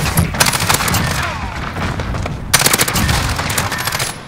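Rapid automatic gunfire in a first-person shooter game, loud bursts of rattling shots in two clusters with a dense barrage near the start and another after a short lull, alone without talk.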